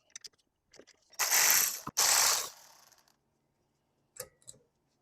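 A ratchet backs out two 14mm brake caliper bolts on a Subaru Outback: a few light clicks, then two loud, fast ratcheting bursts up close, followed by a couple of softer clicks in a quiet garage.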